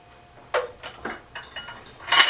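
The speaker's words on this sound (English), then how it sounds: "Let me grab a spatula real quick here" Metal kitchen utensils clink and clatter as a spatula is grabbed from among them in a home kitchen during cake baking, several short, close rattles ending in a louder jangle.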